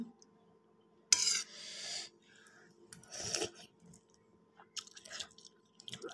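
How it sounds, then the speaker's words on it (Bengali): Close, soft chewing and spoon scrapes come in short bursts with quiet pauses between, wet squishy mouth sounds of someone eating khichuri. "চামচ দিয়ে খাইতেছি"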